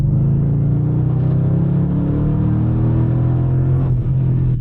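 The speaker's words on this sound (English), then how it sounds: "But now I can finally accelerate with this car." A Mercedes E500 V8 accelerates, heard from inside the cabin as a loud, steady engine rumble with rising tones that climb over several seconds.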